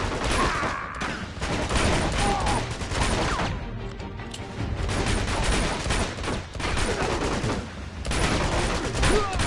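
Rapid, dense bursts of gunfire and automatic weapon fusillades from the video game Uncharted 2: Among Thieves, loud and sustained with brief lulls, mixed with crashes and impacts.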